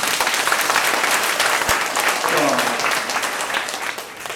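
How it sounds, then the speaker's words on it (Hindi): A seminar audience claps using only their fingers, building a dense, steady patter of soft applause that holds evenly before easing slightly at the end. "आंखें बंद करो और एक उंगली से ताली बजाओ"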